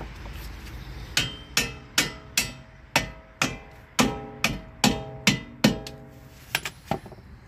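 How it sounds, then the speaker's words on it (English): Hammer blows tapping strut bolts through on a 2003 Toyota Camry 2.4 front suspension, about a dozen sharp metallic strikes in a steady rhythm, close and loud, with no talking. "21 mil, and we're gonna tap these bolts through."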